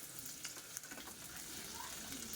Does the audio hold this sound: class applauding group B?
no